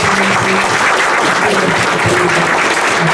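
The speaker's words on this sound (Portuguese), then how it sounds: "Uma calorosa salva de palmas." Loud, close congregation applause at a family Mass, brisk clapping from many hands heard throughout with some low murmuring beneath it.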